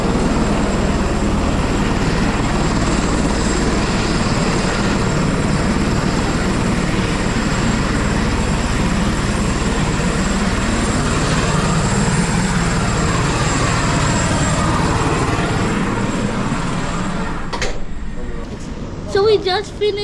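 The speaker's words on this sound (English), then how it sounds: "So we just finished the Niagara Falls helicopter ride." Helicopter in flight on a tour over Niagara Falls, a loud continuous rotor and engine roar filling the cabin for most of the stretch before it begins to fade near the end.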